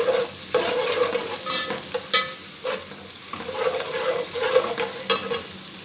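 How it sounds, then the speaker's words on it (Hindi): Onion, ginger and garlic fry in a pan for masala mash daal, giving a steady close sizzle broken by repeated scraping stirs, with no talk. "साथ ही ये भी फ्राई हो जाएगी।"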